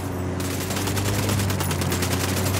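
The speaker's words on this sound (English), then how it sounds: "Open fire. I'm shooting these fuckers." Automatic gunfire in the shooter game Ghost Recon Wildlands, a dense rapid rattle of shots that keeps going without a break, loud and close.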